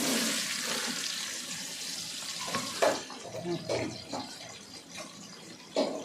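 Water pours into a pot of mutton biryani in a steady splashing stream for a few seconds, then stops as a person starts talking nearby.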